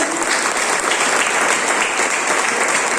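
An audience at a national tour event claps steadily in a dense, continuous burst of applause that fills the space at a loud, even level from start to finish.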